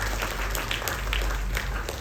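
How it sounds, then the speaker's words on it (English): Audience applause for two women's birthdays, a 60th and an 81st, at an outdoor Ramayan gathering in a park: steady dense clapping from a crowd throughout, fairly close and even in loudness. "Let's give them a big round of applause."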